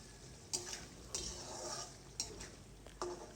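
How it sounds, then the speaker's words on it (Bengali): Ground spice paste for a kochu flower vorta being stirred and fried in oil: a faint, steady sizzle broken by four sharp scrapes or clinks of a spoon against the pan, with no talking. "এখন সম্পূর্ণ মশলাটাকে তেলের সাথে সুন্দরভাবে ভেজে নিতে হবে।"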